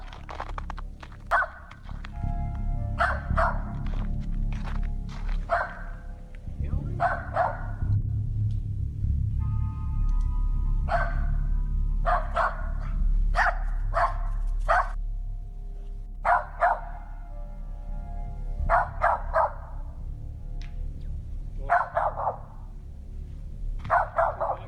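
Riff the dog barks repeatedly in sharp bursts out in the woods during a nighttime search in Remer, Minnesota, the barks carried over a steady low rumble.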